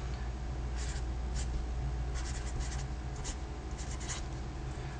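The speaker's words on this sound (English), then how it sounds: "I'll write the date" A pen writes the date on the back of a plain index card: soft, quick scratching strokes in short clusters, close and quiet over a steady low background hum.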